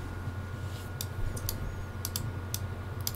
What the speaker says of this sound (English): type in the word apps